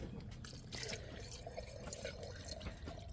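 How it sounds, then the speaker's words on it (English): Water pouring into an empty peanut butter jar in a greenhouse, a soft, close liquid trickle and splash running for a few seconds over a low background hum. "And then I'm going to put some water in it."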